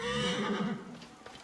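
Horses in the video game Assassin's Creed Origins give a loud, drawn-out whinny up close, followed by a few soft hoof thuds as it fades.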